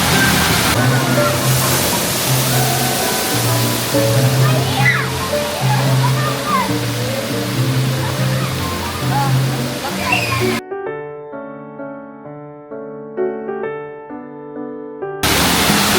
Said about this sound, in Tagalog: Tapos pag napuno na ng tubig 'yon, bubuhos na niya yung buong laman ng bucket.